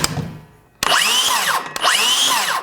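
Cordless saw cutting wood in two quick bursts: a high whining buzz with sweeping tones, loud and close, each cut starting abruptly after a brief pause.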